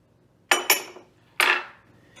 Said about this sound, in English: And we mix now, like this with a fork, it can help me break the butter a little bit.